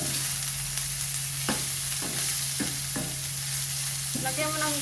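Vegetables cook in a hot pan with a steady, loud sizzle and an electrical hum underneath, broken by several sharp stirring scrapes about a second apart and a brief clatter near the end.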